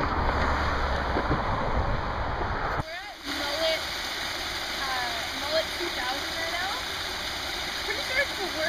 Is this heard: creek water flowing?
yes